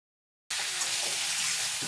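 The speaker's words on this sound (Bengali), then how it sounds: "খুন্তির সাহায্যে এবার নাড়াচাড়া করে একটু ভেজে নেব।" After a short silence, a loud, steady sizzle of spices frying starts abruptly, with faint scraping of a spatula stirring in the pan while making chal kumro shukto.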